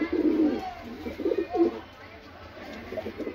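Several soft, low cooing calls from Saharanpuri breed pigeons, a male and a female, rise and fall in short phrases, fairly close, with a faint murmur of voices in the background.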